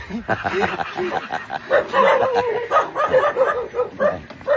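A dog barks several times amid people talking and chuckling nearby, the yaps short and repeated over a busy background.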